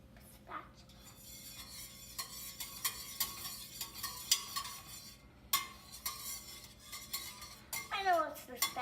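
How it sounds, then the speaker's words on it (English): A spatula scrapes and spreads melted butter around a pan while scrambled eggs are being made, giving repeated close scraping and light clinking strokes with a faint sizzle, and a voice is heard briefly. "if you use the spatula, that'll spread the butter around"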